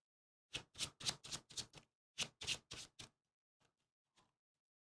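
Playing cards for a Marvel Champions board game are shuffled by hand, a close run of six quick riffling bursts, a short pause, then four more, followed by a couple of faint taps.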